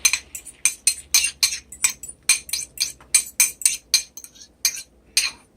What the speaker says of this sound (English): We're going to go ahead and put it in my pan